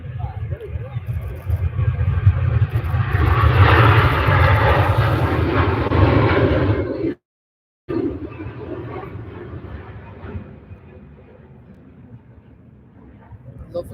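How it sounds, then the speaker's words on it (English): An airliner takes off at Manchester Airport with a loud, rumbling engine roar that builds and holds. It cuts out briefly, then returns and slowly fades, with voices faintly present. "Lovely smooth takeoff."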